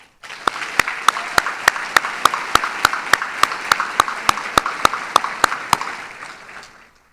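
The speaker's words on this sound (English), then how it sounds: "Would everyone please join me in one more round of applause?" Round of applause for award winners at the Inspire Awards ceremony, heard as a steady run of evenly spaced, sharp claps over a soft wash of room sound, lasting several seconds before fading out.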